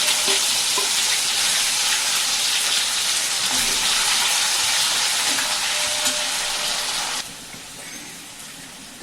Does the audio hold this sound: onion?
yes